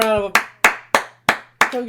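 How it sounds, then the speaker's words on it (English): Five sharp claps in a steady rhythm, close and loud, from a small group on a podcast set; a tonal voice-like sound sits beneath the first and last claps. "a round of applause?"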